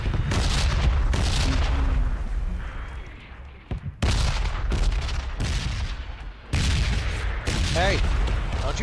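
Red zone bombing in the PUBG battle game brings loud, close explosions and booming blasts in heavy bursts, with brief quieter gaps between the waves of impacts.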